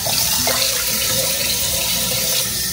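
Warm water runs from a kitchen tap in a steady, close, fairly loud gush for a few seconds with no talking.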